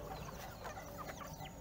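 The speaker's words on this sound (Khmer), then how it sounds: "យើងអាចឲ្យមាន់ស៊ីបានហើយ" Chickens cluck busily while being fed a feed mash mixed with bran and fruit water, several birds calling close by in overlapping, irregular bursts with no talk.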